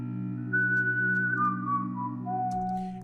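A whistle melody from a dark trap beat plays alone, a bright sliding tune stepping downward over a steady low sustained bed, with a brief percussive hit near the end.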